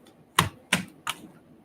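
Three sharp, evenly spaced snaps of tarot cards riffling or slapping together, close and crisp, with quiet in between.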